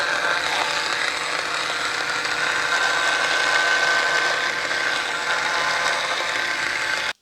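An electric spin scrubber runs steadily with its duster attachment, giving a continuous whirring motor buzz with a faint ringing tone, loud and close, until it cuts off abruptly at the end.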